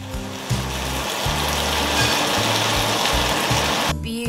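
Dakgalbi, a spicy chicken stir-fry mixture, sizzles and fries steadily in a pan on high heat, a loud continuous hiss close by with a low rhythmic hum beneath it.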